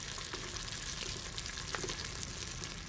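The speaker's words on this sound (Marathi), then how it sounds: "आणि टॅमॅटो हे दोन्हीसुद्धा मिक्स करून ते शिजेपर्यंत चांगलं परतून घ्यायचं आहे।" Onion and tomato sautéing in a pan for village-style mutton keema, giving a steady, close, continuous sizzle and fry with faint stirring scrapes, no voices.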